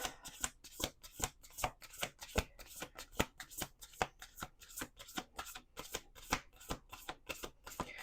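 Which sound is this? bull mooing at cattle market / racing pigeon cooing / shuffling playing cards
shuffling playing cards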